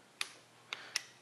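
A torque wrench clicking while cam bolts are tightened to 20 foot-pounds on a 350 Chevy small-block engine: three sharp, close clicks spaced unevenly apart over a quiet background.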